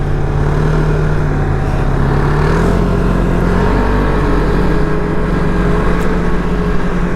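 A Can-Am Spyder three-wheeled motorcycle rides along a snowy trail, its engine droning loud and steady up close with a slight rise in pitch partway through, alongside wind rush and no talking.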